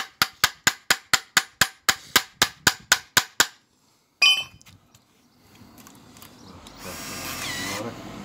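Fourteen sharp metallic strikes of a hammer on metal land in quick, even rhythm during engine removal, then stop; a clang follows after a pause, then faint clatter and hiss.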